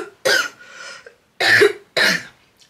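A woman's coughing fit: three loud, harsh bursts of coughing close to the mic, separated by short pauses, with nothing else audible.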